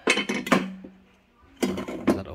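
A 5.5-litre stainless steel pressure cooker for gas and infrared hobs is opened and handled, giving several sharp metallic clanks and clinks in two bursts with a quiet gap between them.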